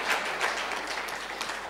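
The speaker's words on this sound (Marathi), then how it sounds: "पुन्हा एकदा जोरदार टाळ्या वाजवून सर्वांचं स्वागत आपण अभिवादन करूया" Audience applause closing day four of the Dasnavmi Utsav 2024 music festival, after a vocal performance by Nishad Vyas; a steady wash of many hands clapping, moderately loud and sustained without talk.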